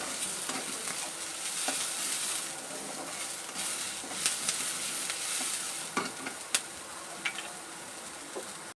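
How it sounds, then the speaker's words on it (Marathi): Onion frying in a pan and being cooked until dark for a Nagar-style black-masala chicken curry, giving a steady close sizzle with scattered crackles and occasional stirring clicks throughout. "आपण कांदा भाजून घेतोय"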